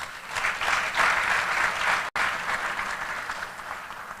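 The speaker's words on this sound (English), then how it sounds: "they deserve an applause" Audience applause fills a university convocation lecture hall in Abuja, a steady dense clatter of many hands sustained throughout, broken only by a momentary dropout midway.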